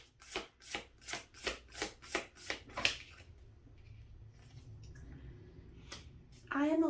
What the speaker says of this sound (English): you see me shuffling this. This is the exact cards that came out with this one.